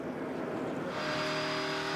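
A NASCAR stock car at the 2012 Brickyard 400, flooded with fuel and struggling to start, produces a loud, continuous engine roar that rises in pitch and steadies as it catches.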